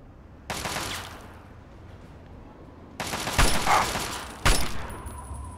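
Assault rifle gunfire in Fallout 3, with loud rapid bursts of automatic shots, one short burst followed by a pause and then two longer, louder bursts close up.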